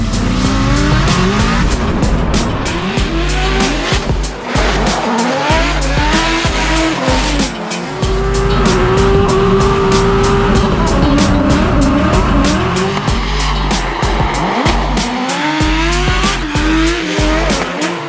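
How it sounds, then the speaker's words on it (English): A race car engine roars loudly and continuously, revving up and down through gear changes, with no one speaking, on a racetrack in St. Louis. "The car feels like it's ripping pretty good."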